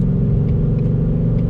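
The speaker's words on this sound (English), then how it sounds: "You just hear that sound of that V8" A 2020 Ford Mustang GT's V8 engine while driving, a loud, steady low rumble heard from inside the car, deep and even throughout with a smooth mid-frequency growl and no talk.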